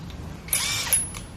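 An electric power drill spins up briefly and whirs loudly for about half a second, then winds down, with a second short burst following; quiet room tone surrounds the bursts.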